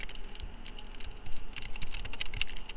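Rapid keystrokes patter on a computer keyboard as a code is typed in, a close, continuous run of light clicks with no talking.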